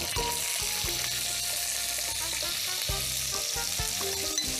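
Duck pieces sizzle steadily in a pot with a turmeric and salt marinade, a loud close frying hiss with occasional stirring clatter and scrapes, no talking.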